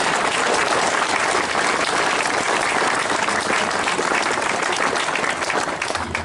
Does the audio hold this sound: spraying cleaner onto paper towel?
no